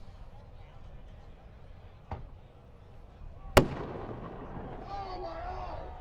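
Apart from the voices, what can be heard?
fireworks going off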